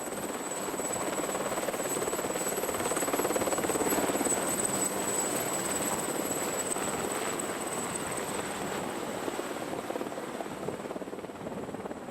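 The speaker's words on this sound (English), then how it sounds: "Within minutes, the helicopter arrives with the machine." A rescue helicopter arriving in the Mont Blanc mountains roars steadily and loudly throughout, its rotor and engine noise constant and close, with no voices.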